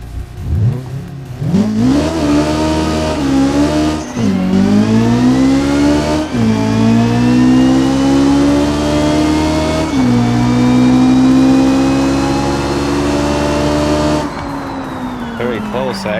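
ETK I series car engine in the BeamNG driving game revving hard through several upshifts, each gear rising in pitch then dropping, loud and close for about fourteen seconds before easing off, with some talk over it.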